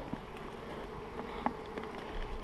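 Honey bees buzz continuously around hives set among lavender in July, a steady dense drone with a few closer individual passes, fairly quiet throughout.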